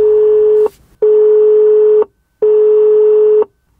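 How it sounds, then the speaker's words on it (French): Telephone ringback tone heard through an Aukey BR-C1 hands-free kit: a steady tone sounding in three loud, even one-second pulses separated by short silences. "on peut aussi s'en servir de kit main libre et on va appeler quelqu'un de ma liste de contacts au hasard"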